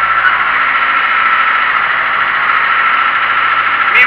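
Ursus tractor engine labouring while ploughing in clay soil, a steady loud mid-range drone with a high squealing tone running unbroken throughout.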